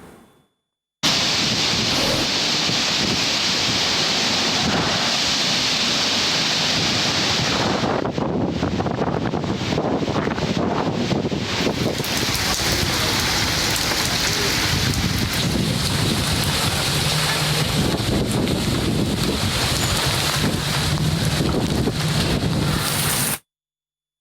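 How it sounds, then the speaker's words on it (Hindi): Steady broadband rain falling across cities in Punjab, a dense continuous hiss with wind-like rush and no let-up, loud and unbroken for the whole stretch with no voices. "बालाई पंजाब के मुख्तलिफ शहरों में बारिश का सिलसिला जारी है।"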